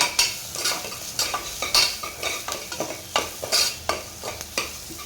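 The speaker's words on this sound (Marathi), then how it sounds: "वाटण सुद्धा तेलामध्ये छान परतून घ्यायचं आहे" Garlic, ginger and masala paste sauté in hot oil while a spoon stirs, a steady sizzle punctuated by regular scraping strokes against the pan, close and loud with no speech.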